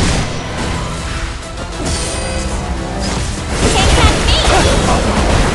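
A special attack in the action game Solo Leveling: Arise sets off loud crashing, booming explosion effects with whooshes that build toward the end. A voice speaks over the effects.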